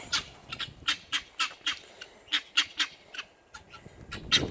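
Guinea fowl and chickens calling, repeated harsh, raspy calls in quick bursts, fairly close, with a few squawks overlapping near the end and no other sounds.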